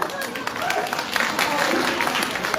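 An audience at an outdoor Ramlila performance during a Dussehra fair in Haridwar claps steadily and loudly for the whole stretch, a dense crowd patter with no let-up.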